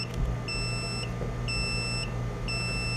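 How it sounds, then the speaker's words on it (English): Three evenly spaced electronic beeps from a Mercruiser MEFI engine flashing trouble code 14, each about half a second long, sound over a steady background hum. There is no talking. "You hear one short beep, 4 short ones, that's 14, code 14."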